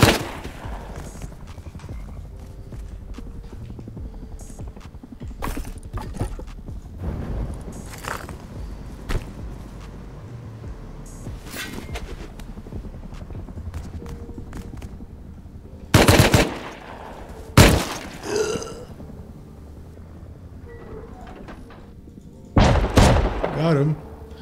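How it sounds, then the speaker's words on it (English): Gunfire in a survival video game base, with a shotgun trap firing: scattered loud blasts and rattling shots, then several sharp isolated booms near the end, with people talking excitedly throughout. "he fell for the shotgun trap again"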